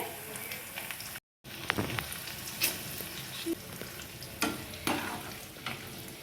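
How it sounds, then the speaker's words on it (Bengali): Papad frying in hot oil over low heat, a soft steady sizzle with scattered crackles and pops, fairly quiet and close, with no talking. "আমি পাপড়গুলো এবার ছেড়ে দিচ্ছি একে একে একদম আঁচটা কিন্তু লো করে নিয়ে ভাজতে হবে"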